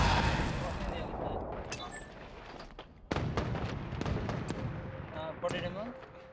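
Sniper rifle shots crack out in a ranked online shooter match, with a few sharp reports and clattering game effects while a player talks over the action.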